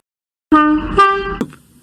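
A single diesel locomotive horn sounds once, a steady harmonic toot held for about a second, fairly loud and close, ending with a brief clunk.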